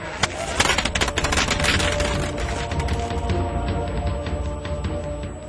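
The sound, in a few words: string of firecrackers going off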